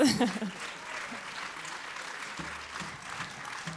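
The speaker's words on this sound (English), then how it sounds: "Gašper Primožič from Bled, so big applause." Steady applause from a concert audience welcoming a tango orchestra musician at a summer festival in Bled, a dense, even wash of clapping that continues throughout, with a voice briefly audible at the very start.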